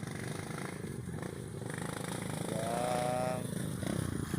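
A single motorcycle engine hums steadily as it rides along a narrow mountain path, close and continuous, rising slightly in pitch midway, with someone speaking over it.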